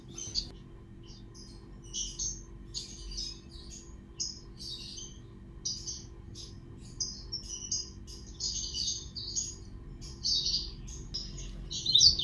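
Blackthroat birds chirp during pairing, and the male sings with his wings spread. Repeated high, bright twittering phrases come close and fairly loud over a low steady hum, and no one speaks.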